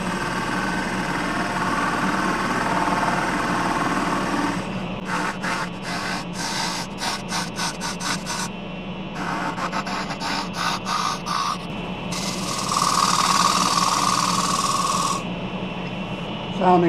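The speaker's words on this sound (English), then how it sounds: "So back to the scraper to thin the bottom until it was thin enough" A scraper thins the bottom of a turned wooden lid on a running lathe, a steady motor hum overlaid by rapid chattering, rubbing bursts of the tool against spinning wood, stopping and starting repeatedly up close.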